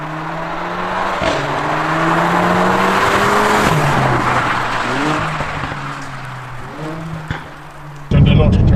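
A 2-litre Mercedes A45 AMG engine revs and drones with shifting pitch, its exhaust letting out a few sharp pops and bangs, the loudest crack near the end, heard close up.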